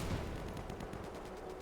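Gunfire and artillery in the video game Easy Red 2 crackle in a rapid, rattling stream of shots over a dense battle rumble, loud and continuous.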